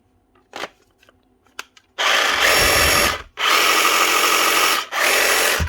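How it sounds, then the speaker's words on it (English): A DeWalt DCS367 reciprocating saw with a broken tool holder runs in loud, harsh bursts, three long runs separated by short pauses after a few quiet clicks and handling knocks. "Dewalt resup saw. This is the DCS 367."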